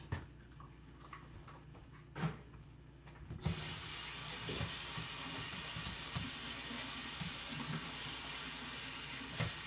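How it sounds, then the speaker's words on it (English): Blueberries get rinsed under a kitchen tap: after a few seconds of quiet clicks and small knocks, the faucet opens and a loud, steady hiss of running water fills the rest, with faint rattling beneath. "just rinsing the blueberries real quick"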